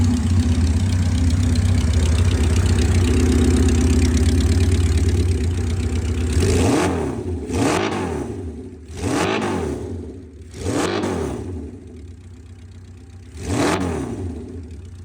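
A custom Honda CB550 motorcycle with a welded, polished exhaust idles with a deep, throaty rumble, then revs up in four sharp, loud blips, each falling back toward idle.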